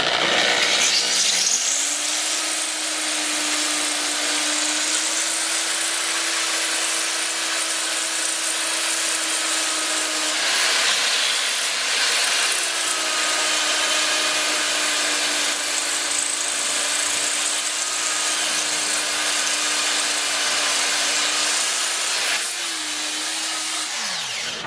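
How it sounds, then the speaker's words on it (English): A plate is sanded by hand with coarse 80-grit sandpaper to reach a set diameter, making a loud, steady abrasive hiss over a constant motor hum that runs unbroken for about 25 seconds without speech. "we're just going to sand it until I feel like I'm getting close to the diameter I need"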